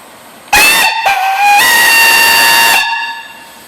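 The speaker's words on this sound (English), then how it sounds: "We'll blow the whistle here. Plug your ears or turn down your volume." A loud steam whistle on a homemade copper-tube steam boiler with a 1/2-inch engine outlet blows in two long, steady shrill blasts after a short break, then fades out.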